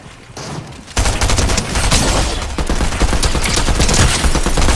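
Fortnite gunfire in a dense, loud burst: after a quieter opening, rapid overlapping shots rattle on continuously, close and sustained to the end.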